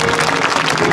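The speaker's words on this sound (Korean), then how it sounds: "다시 한번 갤러리 여러분들의 뜨거운 박수 부탁드리겠습니다." A golf tournament gallery at the 2019 Hana Financial Group Championship trophy ceremony claps for the winner, a dense, loud wash of applause filling the whole second with no talk over it.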